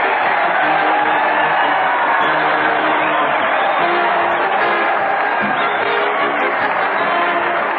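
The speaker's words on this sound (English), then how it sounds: "The crowd cheering Fred Allen and Portland as they march down from Maine" A large audience cheers and roars without a break at an old-time radio comedy broadcast, a loud, dense, muffled wall of crowd noise with lo-fi, band-limited broadcast quality.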